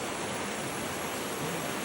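Water flows steadily in a broad, even rush of hiss that holds at a constant level throughout, fairly loud and close, with no voices over it.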